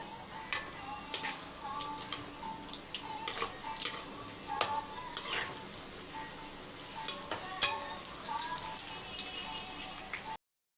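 Idiyappam-style batch frying for a friends' meal sizzles and crackles steadily in oil, sharp spits and stirring taps breaking through the bubbling hiss, with no talk.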